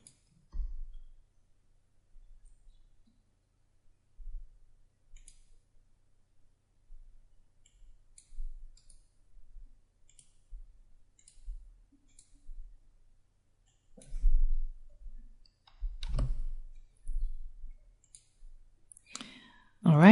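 Computer mouse clicks while a book cover is made in graphics software, soft scattered taps spread across the passage with a few louder clicks near the end, close, with faint speech.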